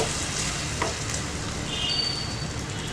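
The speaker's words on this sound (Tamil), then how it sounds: "இது நல்லா வதங்கட்டும்" Lamb head curry mixture sautéing in a pan, a continuous close sizzle and crackle of frying with a brief stir and scrape partway through and a thin high hiss near the end.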